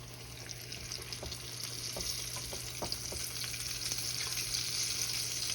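Breaded pork steaks fry in hot grease, giving a steady close sizzle and crackle with scattered small pops throughout, fairly quiet, with no talking.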